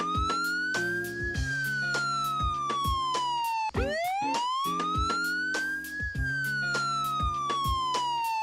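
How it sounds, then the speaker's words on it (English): Wail siren sweeping slowly up and down between high and low pitch in long smooth cycles, loud and continuous, with a steady rhythmic percussive pattern playing beneath it. "this siren sound is known as wail or wailing"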